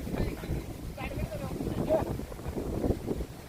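Wind blows across the Sahyadri hills near Bhimashankar, a steady broadband rushing with gusty microphone buffeting that runs throughout.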